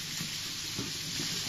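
Chopped onions and green chillies sizzle loudly in hot oil for a dry fish egg curry, giving a dense, even hiss with faint stirring, close and with no talk.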